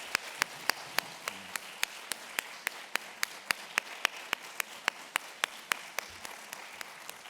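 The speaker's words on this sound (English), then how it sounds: "Can we give one more round of applause?" Sparse, rhythmic clapping at a dance-and-poetry celebration event, single sharp claps spaced evenly at about three per second, fairly close and otherwise quiet.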